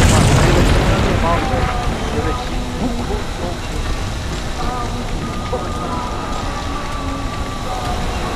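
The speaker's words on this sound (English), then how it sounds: "Explode tudo." An explosion erupts in the game We Happy Few, a loud booming blast that settles into a long rumbling, crackling debris roar while a voice talks over it.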